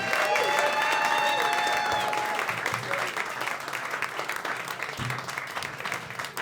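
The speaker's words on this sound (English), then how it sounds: "keep that clap going for you" Stand-up comedy audience applauding and cheering as a comedian finishes his set: a loud, dense burst of clapping with a few high whistles at the start, easing into steady applause.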